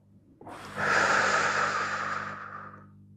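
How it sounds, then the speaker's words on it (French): A single long, deep breath is drawn and slowly exhaled close to the microphone, rising sharply then fading over a few seconds. "Une respiration."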